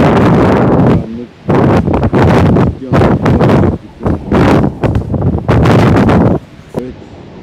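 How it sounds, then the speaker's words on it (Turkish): A powerful storm wind buffets and roars against a large caravan, loud gusts surging and dropping in waves close to the microphone, with a voice talking at points between the blasts. "Müthiş bir fırtına var."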